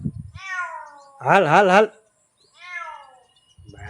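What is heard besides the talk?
cat meowing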